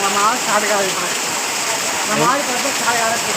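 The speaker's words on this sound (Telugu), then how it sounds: "అది ఇట్లా కొట్టాలి వర్షం" Heavy rain pours steadily during a flood in the old quarter of Nalgonda, a loud continuous hiss with people talking close over it.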